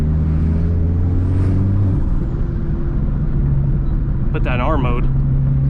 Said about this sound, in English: I like the downshift on this. Oh my god. The auto rev matching always gets me.